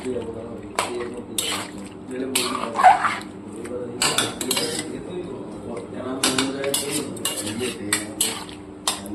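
Chicken chaap being stirred in a pan with refined oil, a utensil scraping and clinking against the metal in irregular bursts over a low cooking hiss, with a voice speaking now and then.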